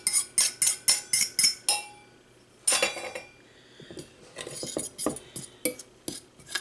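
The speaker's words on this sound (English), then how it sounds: "we're just going to work this in until it's nice and crumbly" Beaten egg worked into almond cracker dough in a bowl: a run of loud, regular utensil clinks against the dish, a pause, then quicker irregular scraping and tapping, all close and without talk.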